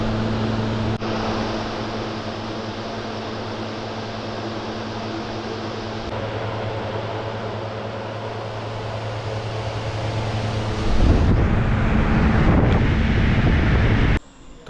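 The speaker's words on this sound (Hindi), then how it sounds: "तो कूलर की हवा में मैं जल्दी जल्दी बाल सुखाता हूँ।" A room air cooler blows a steady, loud rush of air with a low motor hum, used for drying hair; the airflow grows rougher and louder near the end, then cuts off abruptly.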